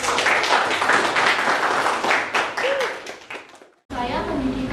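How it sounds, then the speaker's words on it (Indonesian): Classroom audience clapping at a school debate, a dense burst of applause mixed with a voice, fading out abruptly before a voice resumes speaking. "Beri tepuk tangan terlebih dahulu."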